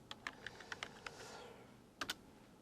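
Keys on a computer keyboard are pressed during accounting software data entry, including the F2 key: a quick run of light, close clicks, a short pause, then two more taps, all fairly faint.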